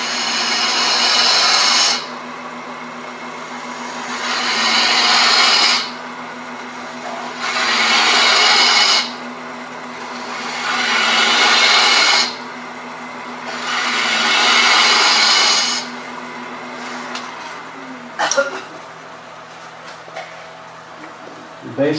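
A wood lathe turns a wooden box blank, with loud broadband cutting bursts of a few seconds each as the gouge engages, separated by quieter stretches of the motor's steady hum.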